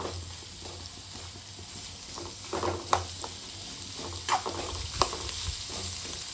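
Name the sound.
onion, tomato, coriander, curry leaves frying in oil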